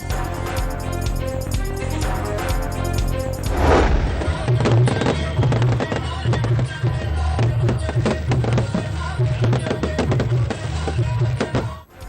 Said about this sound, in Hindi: बिलावल हाउस शानदार आतिशबाजी से जगमगा उठा।